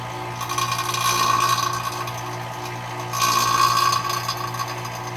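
A vacuum pump starts up on a Toyota MR2 AW11 air-conditioning system, a steady mechanical hum and rattle with two louder whirring surges, running continuously without any talk.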